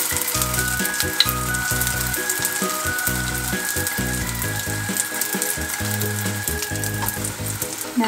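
Hotteok, Korean filled sweet pancakes, sizzling steadily in hot oil in a pan, a continuous loud frying crackle with occasional scraping and pressing sounds over a low hum, no talking.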